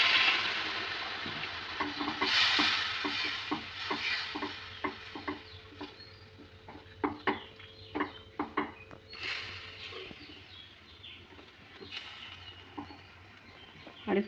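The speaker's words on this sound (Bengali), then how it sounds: "এটা আমি এবার জল দিয়ে অ্যাড করে দেবো।" Water goes into a simmering spice masala for a Bengali fish curry, giving a brief hiss then a soft bubbling patter and irregular stirring clicks and taps, close and fairly quiet, with no talking.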